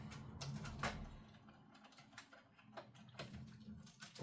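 Mechanical clicks and ratchet-like ticks as a Phillips screwdriver works screws loose to open an Nvidia Quadro P4000 graphics card, quiet and close, in short irregular bursts with pauses.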